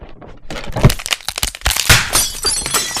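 A sharp crack and pop as something breaks, followed by a cluster of crunching, rattling debris sounds, close and loud, played as a sound effect recreating a recliner being put down.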